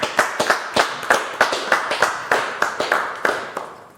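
A small audience claps for a singer, a sparse handful of close individual claps in an irregular rhythm that fades out toward the end.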